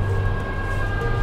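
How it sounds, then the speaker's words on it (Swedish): Police car sirens pass on a city street during a large emergency response, a loud, steady wailing tone over a low traffic rumble. "Har du sirener? Fler sirener."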